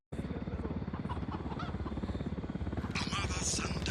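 A helicopter in Ghost Recon Wildlands thumps with fast, steady rotor beats close by, mixed with game noise and a burst of brighter sound near the end.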